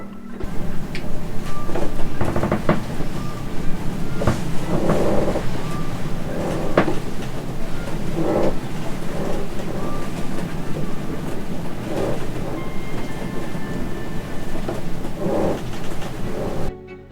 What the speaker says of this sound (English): the squeaking of the ropes against the side of the boat as the wind moves the boat around